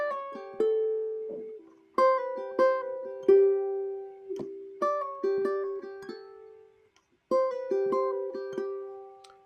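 Solo ukulele plays a simple intro. Bright plucked notes and short picked phrases come in gentle groups, with a brief pause before the melody resumes, clear and close.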